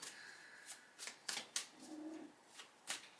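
Quiet, close riffling and snapping of a deck of cards being shuffled and drawn during a tarot-style card reading, in several short bursts with brief pauses between them.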